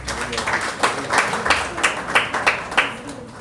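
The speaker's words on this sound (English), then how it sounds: "I didn't expect you to clap." An audience in a hall at a keynote address claps in a short burst of rhythmic, fairly even hand claps for a few seconds, moderately close.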